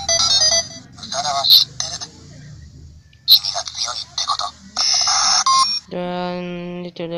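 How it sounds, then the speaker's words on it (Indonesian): A Go-Buster DX Morphin Brace toy in call mode plays an electronic ring tone and then a tinny, recorded character voice for Nick, broken up by sharp beeps, close and loud. "Dan ini mode telepon. Dan itu suara dari Nick"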